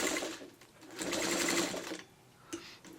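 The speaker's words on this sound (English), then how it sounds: "And you back stitch." A sewing machine back stitches a quilt, a close, steady mechanical whirr that speeds up and slows in short runs over three seconds.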